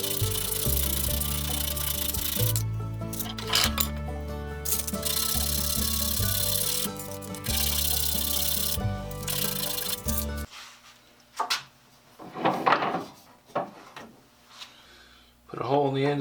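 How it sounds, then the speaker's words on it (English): The end of a threaded round metal rod is deburred by hand with steady, loud rasping strokes for several seconds, then stops as a voice begins talking. "Deburr the end."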